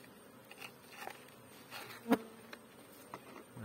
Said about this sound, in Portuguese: Agora na época as abelhas estão mansas.